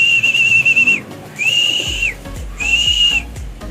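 Three long, steady whistle blasts used to call birds, each lasting about a second with short gaps between, loud and close, with faint background noise.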